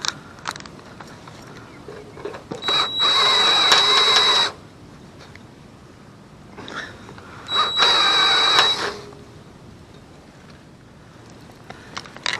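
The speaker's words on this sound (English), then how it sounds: "Once you get that pilot hole drilled, it's pretty easy." Two separate bursts of drilling through a pilot hole for rivets aboard a boat, each a few seconds of whirring, grinding noise, with quiet pauses around them.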